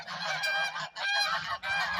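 Farm ducks call excitedly in three loud, honking bursts, close by, with brief pauses between them and no voices.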